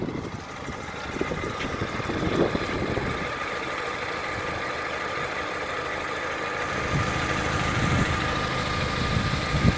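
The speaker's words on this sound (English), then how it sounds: "Engine is still running, took it like a champ." A flooded Toyota car engine idling after water rose halfway up the body, a steady, moderately loud rumble with a faint knocking rattle running throughout and no talk.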